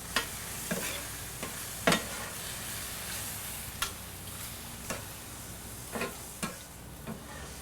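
Pineapple seasoned with salt, allspice and ancho chili is stirred in a bowl, giving a soft, steady wet mixing sound with a handful of sharp utensil taps and clicks scattered throughout, quiet and close with no talking.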